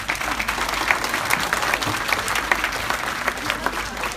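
Loud, sustained applause from an audience at a religious celebration of the Imam Mahdi's birth in a community center in Washington, dense clapping throughout without pause.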